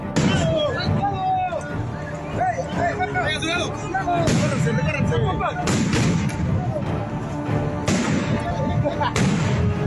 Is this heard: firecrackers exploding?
yes